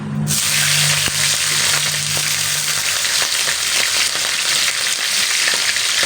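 Green chillies hit a pan of frying spinach and set off a sudden loud sizzle that keeps crackling and hissing steadily, close up, with no talking over it.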